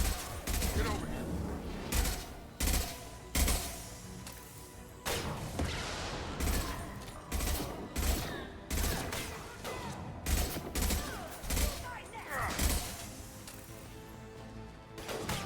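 Sci-fi gunfire from the video game Mass Effect 2 fires in repeated loud bursts and single shots every second or so, with impacts and combat effects, while voices talk between and over the shots.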